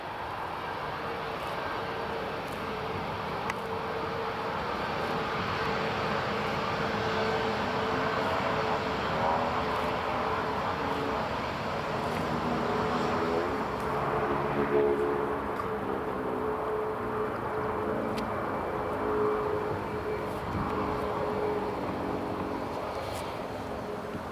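An airliner on the runway at Newcastle International Airport produces a continuous, moderately distant jet engine roar with a shifting whine, steady throughout without talking.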